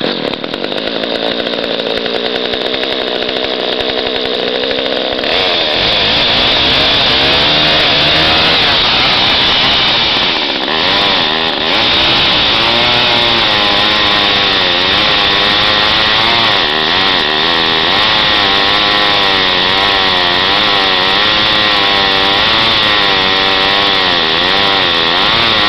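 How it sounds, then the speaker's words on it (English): A Craftsman chainsaw cold starts after a few seconds and then runs loud and close, its engine revving up and down unevenly through the rest of the clip. "It's not a half bad chainsaw though. Let's see if this will start up first."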